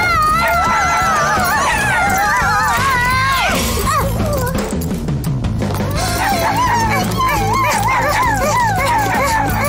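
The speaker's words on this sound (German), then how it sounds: "Wir springen auf diesen irren Hund und reiten los." A cartoon dog in a German children's animated series yelps and wails in long, wavering howls over music and sound effects, loud and close, with a brief crash in the middle.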